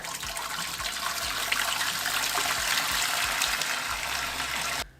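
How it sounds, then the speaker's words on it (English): Steady gushing water pours into a pot on the stove for several seconds, a broad continuous rush that cuts off abruptly at the end. "Set your pot on a medium high and add your water."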